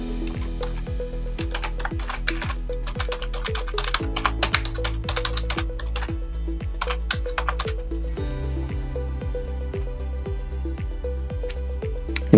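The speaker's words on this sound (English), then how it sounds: "you just type in the IP address of your Raspberry Pi." A Raspberry Pi IP address is typed on a computer keyboard as a string of crisp, evenly paced keystrokes with short pauses, heard close up over quiet background music.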